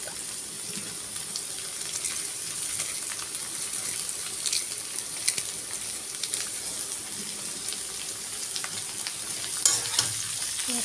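Shredded cabbage sautéing in a hot pan for vegetable noodles, a steady broadband sizzle with scattered stirring scrapes and clinks throughout, close and moderately quiet with no voices.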